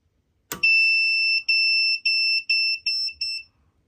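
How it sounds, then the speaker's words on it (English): Loud, high-pitched electronic alarm beeping from a power inverter on a LiFePO4 battery system: one long tone, then a run of shorter rapid beeps that cut off, with no talking. "now it did stop beeping"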